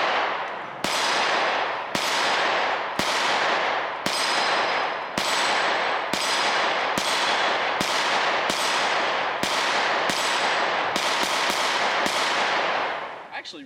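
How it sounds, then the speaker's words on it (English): Taurus TS9 pistol firing 115 grain full metal jacket rounds, about fifteen sharp, loud, close shots in a steady string roughly one per second, quickening slightly toward the end, each followed by a short ringing decay. "Let's put a couple more rounds through it"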